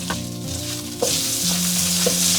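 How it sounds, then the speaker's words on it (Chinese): Sichuan cured pork stir-frying in melted lard to render its fat, a loud close sizzle that intensifies partway through, with a few sharp clinks of the spatula against the wok. "我们先把腊肉给它放上去，煸炒出油脂"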